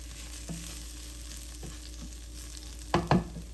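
Half a cup of rice is stirred and cooked in a pan, giving a low steady sizzle with scraping stirring strokes and a couple of louder utensil knocks near the end.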